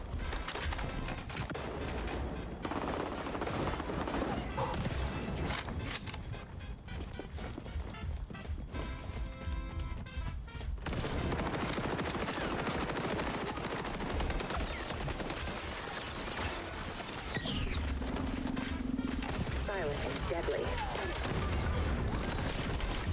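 Light machine gun fire in the shooter XDefiant, with rapid bursts of automatic shots crackling in and out across a busy mix of game sounds, some stretches quieter between volleys.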